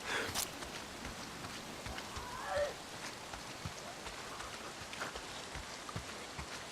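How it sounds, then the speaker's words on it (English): Rain falls steadily in the video game Days Gone, a constant pattering wash with scattered louder drop impacts throughout. "If it's not the freaks, it's the goddamn rain."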